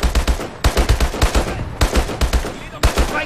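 Automatic gunfire in Call of Duty: Advanced Warfare during a naval battle between the US military and Atlas, loud rapid bursts of shots in several quick volleys with short pauses between.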